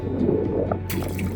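Ice water sloshes and squishes aboard a sailboat during repair prep, a continuous wet churning with a low steady hum beneath and a brighter splashy burst near the end; no one speaks.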